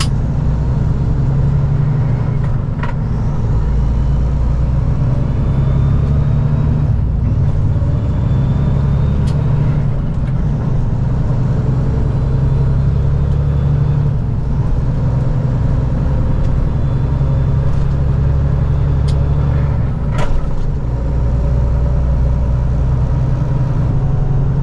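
A truck with a Cummins X15 565 Performance engine drives an oversize route near the Port of Baltimore, giving a steady, loud low drone that holds for the whole stretch, with a few faint clicks and rattles above it.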